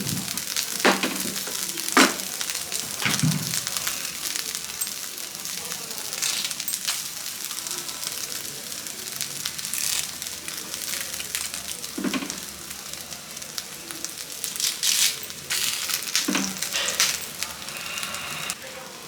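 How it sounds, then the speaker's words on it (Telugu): Curry leaves and dry chillies frying in hot oil, a steady close sizzle with intermittent sharp crackles and pops scattered through, no talking over it. "ఇలా ఫ్రై అవుతున్నప్పుడే ఇందులోనే మనం కరివేపాకు కూడా వేసుకోవాలి"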